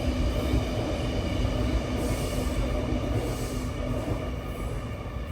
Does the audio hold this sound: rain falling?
no